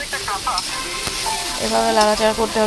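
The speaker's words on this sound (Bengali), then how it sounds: "এখন দিয়ে দিলাম ধনিয়া পাতা দিয়ে সুন্দর করে এভাবে লাড়াচাড়া করতে হবে" Tomatoes and coriander leaves sizzling in a pan as they are stirred, a moderate steady fry with scraping and tapping from the spoon, and a voice speaking over it.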